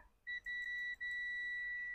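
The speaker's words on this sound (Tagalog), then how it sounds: "Yun, ang tunog ng buzzer." The continuity buzzer of a ZOYI ZT-702S oscilloscope multimeter beeps twice in short thin bursts, then holds a steady, piercing tone close by.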